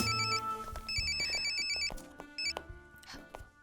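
A telephone rings with a bright electronic ringtone in repeated bursts of tone, heard fairly near, mixed with some other clatter, before a voice answers.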